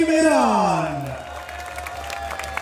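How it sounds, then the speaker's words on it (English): Crowd at an international fighting tournament, Pakistan versus Iran, applauding and cheering for both teams; an announcer's amplified voice opens over the noise, then a sustained wash of clapping carries on. "A huge round of applause for Team Pakistan and Team Iran."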